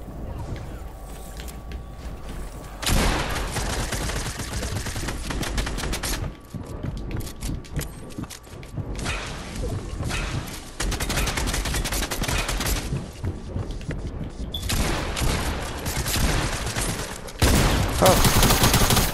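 Gunfire in a Fortnite zone wars match, with bursts of rapid shots and rattling automatic fire coming in loud clustered volleys separated by quieter stretches of game sound.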